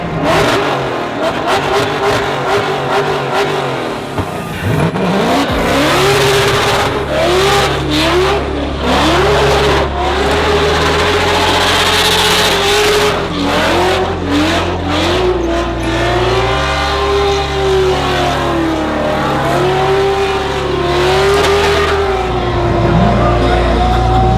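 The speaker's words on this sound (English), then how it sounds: "There's cars being really loud, and there's a lot of smoke coming out of tires." Loud car engines rev and roar continuously at the SEMA show, with rising and falling revs and high-pitched tire squealing over a dense, noisy background.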